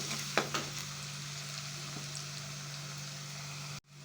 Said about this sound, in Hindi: अब इसको मिक्स करेंगे। अब हम इसके अंदर अदरक लहसुन डाल देंगे।